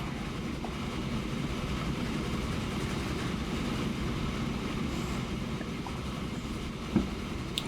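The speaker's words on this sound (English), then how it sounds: "Go have a look at our train. Nicely loaded with iron ore." A freight train loaded with iron ore rolls along in the Transport Fever game, a steady rumbling wheel-on-rail drone with faint clacks and a single short knock near the end.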